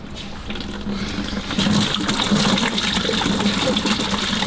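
Fluid gushing steadily from a leaking hose on a Ferrari with a 600 hp V12, a loud continuous rushing spray that swells after a moment and keeps going, no voices.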